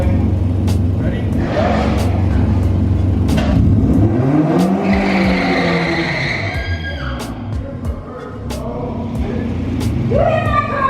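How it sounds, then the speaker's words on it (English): A truck does a burnout at a night meet, its engine revving hard and tires screeching in rising and falling bursts, loud and close, with onlookers shouting over it. "this truck will do a burnout."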